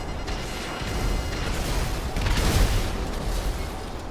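Missiles from a Pegassi Oppressor MK2 in GTA 5 blow up in deep, rumbling booms, with a heavier blast swelling near the middle before the noise settles.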